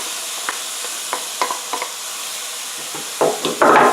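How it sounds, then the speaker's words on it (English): Rinsed rice tumbles into a hot pan for crawfish jambalaya, bringing a steady sizzle with scattered scraping stirs and a louder burst of frying near the end. "I've already rinsed it, so let's go ahead and put the rice in here"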